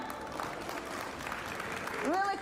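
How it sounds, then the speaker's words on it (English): Audience applause at the ICT Expo in Uzbekistan after a session, a soft, fairly distant patter of clapping from a modest crowd, with a voice breaking in near the end. "Please applause again."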